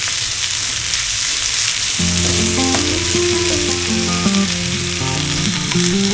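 Chopped tomatoes go into a pan of fried potatoes, and a loud continuous sizzle and crackle follows while tonal music plays underneath.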